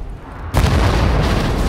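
A grenade detonates in the World War II shooter game Wolfenstein: The New Order, a sudden loud boom after a short quiet stretch, followed by a sustained rumbling roar that fills the rest of the moment.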